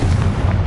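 Confringo blasting spell explosion in a Harry Potter game, a short, loud, deep boom filling the moment with heavy low rumble and no voices.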